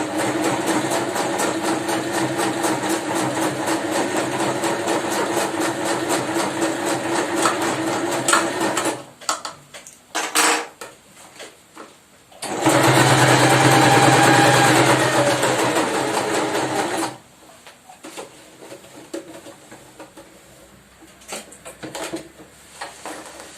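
A sewing machine runs steadily while stitching a homemade cover for a sewing machine, with a longer, louder burst in the middle after quieter stretches and short stops.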